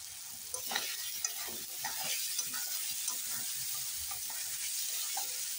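Paneer masala with coriander powder is stirred in a frying pan, giving a soft steady sizzle with light scraping stirs and faint clicks, close and unaccompanied by speech.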